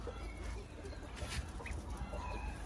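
Ducklings on their first day out, with faint fowl-like clucks and peeps scattered over a constant, noisy outdoor background.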